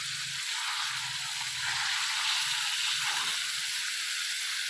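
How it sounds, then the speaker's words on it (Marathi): Green peas frying in a pan give off a loud, steady hiss of sizzling oil that holds without a break, with faint low thuds beneath it. "वटाणे पण ना असंच तळून घ्यायचं आहे"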